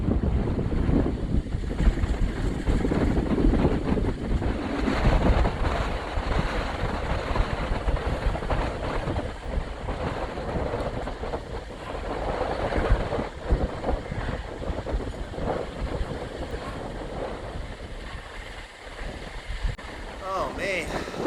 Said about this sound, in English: It is really, really windy.